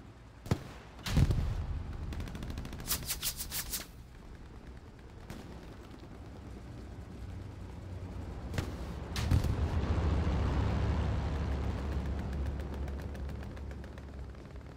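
Shots are fired at a tank in Hell Let Loose, a World War II shooter: sharp single gunshots and a quick burst, then a heavy blast followed by a long low rumbling roar of engine and battle noise.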